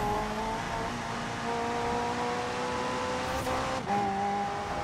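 Engine noise from a Renault 5 Turbo in the Forza Horizon 4 racing game climbs as the car accelerates, shifting gears around the fourth second, steady and moderately loud with no voices.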